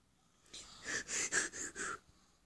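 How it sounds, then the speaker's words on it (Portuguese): Heavy breathing in the horror video game Emily Wants to Play: four or five loud, raspy, wheezing breaths in a slow rhythm, close and alone against quiet. "Respiração, vai, fi."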